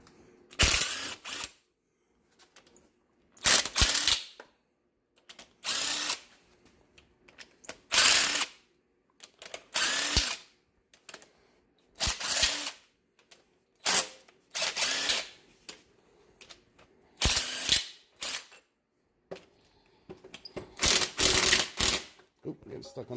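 Short bursts from a small air impact wrench spinning off engine head bolts on a 1972 Ford Gran Torino 429, about ten separate rattling runs of a second or so each with quiet pauses between, close and fairly loud.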